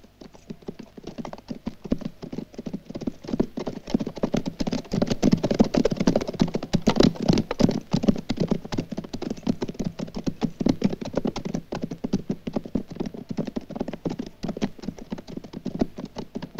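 Horses' hooves clip-clop in a steady, dense rhythm of hoofbeats on hard ground, loud and continuous, swelling in the middle and easing off toward the end in a western desert setting.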